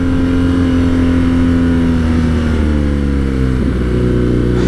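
A 2020 BMW R Nine T Scrambler motorcycle rumbles along in first gear, its engine a steady loud drone with a shifting pitch that dips and settles as the rider rolls on and off, with no talk.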